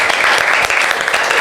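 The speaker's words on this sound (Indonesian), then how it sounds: "Tepuk tangan sekali lagi dong." An audience at a scholarship podcast event claps in dense, continuous applause, loud and close, sustained through the whole short stretch.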